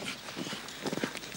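Hooves of a horse pulling a cart clop along in a period outdoor setting, a quick cluster of close, fairly loud hoofbeats.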